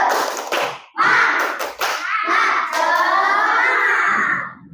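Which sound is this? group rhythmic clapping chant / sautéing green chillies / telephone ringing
group rhythmic clapping chant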